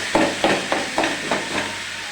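Potatoes frying in hot oil and being stirred in a pan, a steady sizzle broken by about six regular scraping strokes of the spoon, close and alone with no talk.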